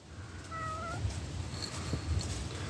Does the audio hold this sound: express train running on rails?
no